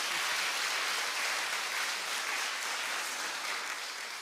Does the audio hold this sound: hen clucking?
no